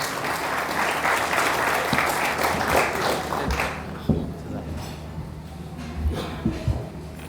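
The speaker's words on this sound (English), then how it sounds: "give him a round of applause" A gala dinner audience applauds the incoming speaker at length, a dense wash of clapping that fills the hall for several seconds before thinning out into scattered claps and room murmur.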